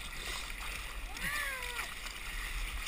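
Rushing whitewater churns steadily as a boat is paddled hard through rapids, with a voice rising in a shout over the constant roar of the water.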